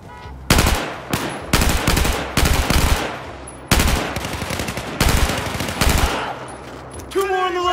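Automatic weapon fire in the Battlefield 4 single-player campaign, loud close rapid bursts of machine-gun shots separated by short gaps, ending with a brief electronic tone.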